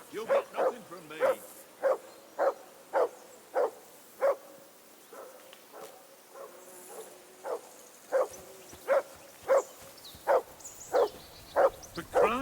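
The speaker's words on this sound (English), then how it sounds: "Call off that damn dog before he wolfs down the last of our men." A dog barks repeatedly in the medieval video game Kingdom Come: Deliverance 2, sharp single barks at a steady rhythm of roughly two per second, close and clear, broken by a short pause midway, with faint insect buzzing underneath.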